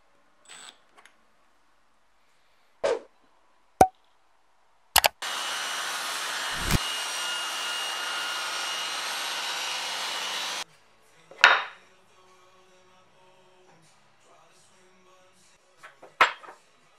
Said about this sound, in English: I set up this quick jig on the table saw sled to get the perfect angles.